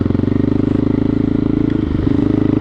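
A big adventure motorcycle struggling through mud, its engine a loud, steady, low throbbing drone that stays close and continuous throughout, with a slight wavering near the end.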